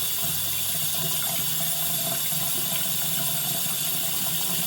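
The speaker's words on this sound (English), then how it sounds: "I want it to be warm or hot water." Warm water pouring steadily from a tap into a sink, a constant close hiss and splash with no talk.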